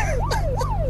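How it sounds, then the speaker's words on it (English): A police boat siren in the video game Unturned sweeps up and down in quick, repeating cycles, loud and steady over a low engine hum. "Yeah. Sirens on."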